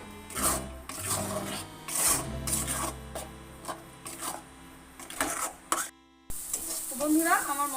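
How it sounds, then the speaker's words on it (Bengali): Tomato and dried chili paste masala sautéing in a pan, with repeated scraping stir strokes and a soft sizzle that cuts out briefly before resuming. "এবার এটাকে আমি ভালো করে কষিয়ে নেবো কিছুক্ষণ।"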